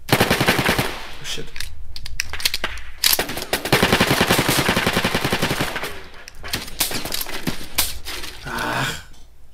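Rapid bursts of Heckler & Koch G3 rifle fire from the BRAIN / OUT video game rattle loudly and almost continuously, broken by a few brief pauses, with a short spoken exclamation.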